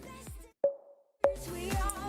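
A punchy, digital percussion hit with a crisp transient, much like a metronome click, sounds twice between louder musical passages, each strike clear and pitched with a short ringing decay.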